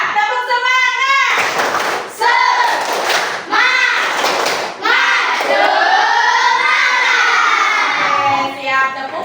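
Schoolchildren in a classroom clap a rhythmic 'tepuk semangat' pattern together, a loud burst of hand claps and shouted chant from the whole class, repeated in short bouts with brief pauses.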